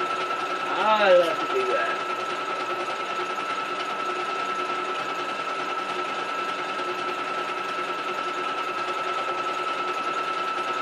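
A sewing machine runs steadily through the clip, a continuous mechanical hum with a brief louder burst near the start, and a voice speaks briefly over it.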